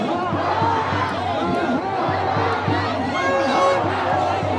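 Dense crowd of protesters at the Galle Face occupation in Colombo, Sri Lanka, a steady loud hubbub of many voices with chanting-like rhythmic swells, continuous throughout with no single voice standing out.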